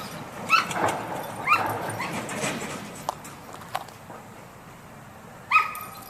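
A Doberman whines in short high cries and gives a few sharp barks outdoors at a dog park, spaced out over a steady background hum.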